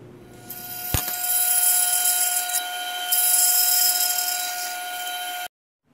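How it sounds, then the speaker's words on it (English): A bandsaw whines steadily as it cuts a wedge slot into a wooden lamp post, a sharp click at the start and a shift in pitch midway, then the blade noise stops abruptly. "So here I am at the bandsaw."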